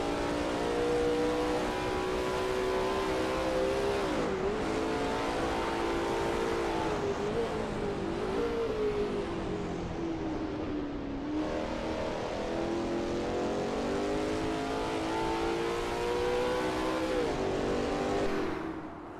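A Lola T70 MkII Spyder race car in a racing video game at Bathurst, its engine loud and continuous throughout, revving up and down through gear changes along the circuit.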